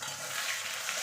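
A paste of ginger, garlic, dried red chilli and tomato hits browned onions in a pan for a duck-egg, potato and cauliflower curry, giving a soft, steady sizzle with faint stirring, quiet and close.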